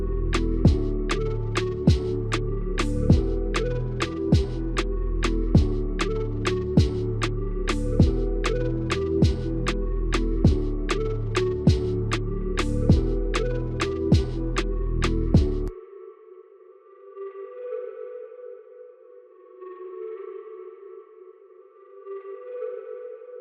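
A hip-hop beat made in FL Studio uses a reversed, chopped sample over steady, heavy kick drums and sharp snare and hi-hat hits for about fifteen seconds, after which only soft, airy fragments of the sample remain.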